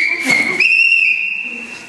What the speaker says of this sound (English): I have a rape whistle.